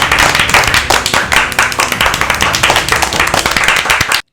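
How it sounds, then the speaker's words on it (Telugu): A group claps steadily for about four seconds, a dense run of close, loud hand claps that ends abruptly, with no talk over it. "క్లాప్స్ కొట్టండి"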